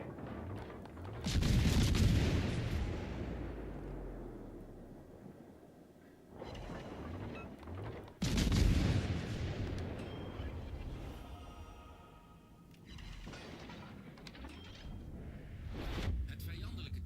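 Ship guns firing in a naval battle video game, with several heavy booming salvos spaced a few seconds apart, each trailing a long rumbling decay, while voices talk intermittently between and over the blasts.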